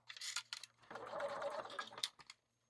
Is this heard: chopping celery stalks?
no